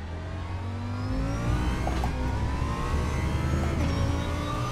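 A race car braking and downshifting in the RaceRoom racing sim, steady engine drone with shifting tones and brief clicks of gear changes, loud and continuous with no talk.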